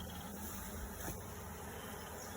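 A honey bee swarm being installed in a top bar hive gives off a dense, continuous buzzing hum, fairly faint but steady throughout with no talking.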